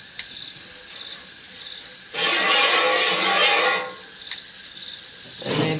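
Butter hits a hot barbecue grill and sizzles loudly in a sharp burst lasting a couple of seconds, then quiets before a second shorter hiss near the end.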